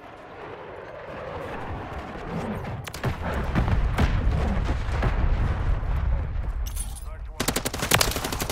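Gunfire from the Call of Duty: Modern Warfare III video game, with a steady roar of shots and blasts that swells at about three seconds, then sharp bursts of automatic fire near the end, loud and close.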